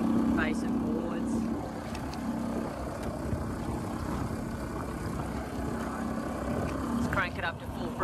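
A small outboard motorboat fitted with a hydrofoil runs steadily at low revs near the point where it starts to cavitate, its droning engine and water rush continuous throughout, with brief voices near the start and end.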